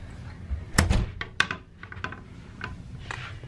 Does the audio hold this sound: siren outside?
no